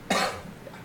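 A single sharp cough, close and loud, bursts out alone and trails off quickly into room quiet.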